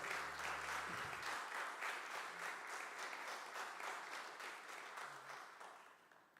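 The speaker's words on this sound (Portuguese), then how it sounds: "Você pode dar um lindo aplauso ao Senhor?" Steady, dense applause from a church congregation praising the Lord at a worship service, sustained and moderately distant, tapering off gradually toward the end.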